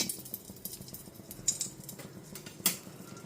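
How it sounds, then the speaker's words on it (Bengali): Salt is mixed into pieces of pomfret fish, giving quiet, scattered clicks and light taps with a couple of sharper clinks and no talking. "এবার লবণটাকে একটুখানি মিশিয়ে নিচ্ছি।"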